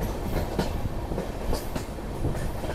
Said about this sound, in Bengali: ট্রেনটা কিন্তু এবারে বাঁক খাচ্ছে, বাঁক খেয়ে পাহাড়ের উপরে উঠছে